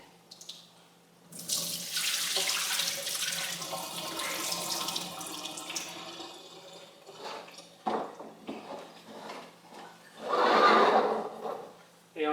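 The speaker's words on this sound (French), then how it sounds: "On refait l'opération, on remet de l'eau." Water poured over germinating seeds in a pot, a steady splashing flow running for several seconds, pausing, then a brief louder gush near the end, close and alone without speech.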